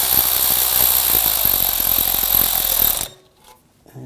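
A ratchet or power tool tightens the bolt on the downstream O2 sensor clamp of a 2001–2009 Volvo S60 2.5L five-cylinder, a loud, close, rapid mechanical rattle for about three seconds before stopping abruptly.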